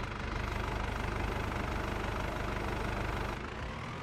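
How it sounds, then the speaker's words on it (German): Fendt tractor engine in Farming Simulator 22 running steadily with a deep low rumble and rhythmic knock, close and continuous, dipping slightly toward the end; no voices. "dass der Motor wieder hochläuft"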